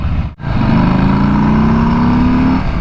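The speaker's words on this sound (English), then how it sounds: "This is a Milwaukee 8 engine, 107 cubic inch." Revving from a 2020 Harley-Davidson Street Bob with its 107 cubic inch Milwaukee 8 V-twin: after a short dip, the engine climbs in a loud, steady, rising rumble that lasts about two seconds, close and alone with no talking.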